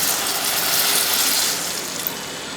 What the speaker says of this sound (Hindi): अब इसमें 3/4 कप पानी डालेंगे।